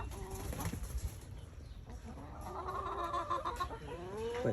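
Chickens crowd at the coop door, clucking and making soft throaty calls in a busy, overlapping chorus that sounds close but moderately quiet.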